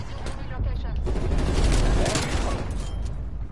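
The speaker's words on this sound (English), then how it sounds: "Cruise missile inbound." Cruise missile strike explosions in Call of Duty: Black Ops Cold War, a dense roar of overlapping blasts and crackling debris that holds loud for several seconds, with speech-like sounds mixed underneath.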